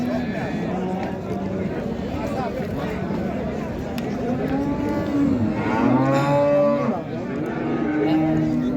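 A cow with her calf moos at a livestock bazaar in Qarshi, long drawn-out lowing calls rising over the steady din of the crowded market while people talk nearby.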